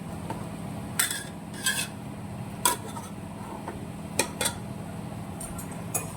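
Fried onion, mint and coriander being mixed into vegetable biryani in a pot, with a handful of spaced metallic clinks and scrapes from the utensil over a low steady background hum.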